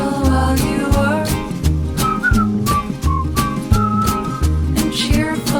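Whistling carries a melody from Snow White over a bouncy orchestral accompaniment with steady bass, the tune clear and continuous for several seconds.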